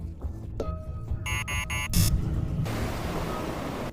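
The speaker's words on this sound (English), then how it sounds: "the security system detects interference that causes the alarm to sound" A security system alarm sounds in sharp, pulsing electronic buzzer bursts, loud and close, which give way to a harsh hissing noise that carries on to the end.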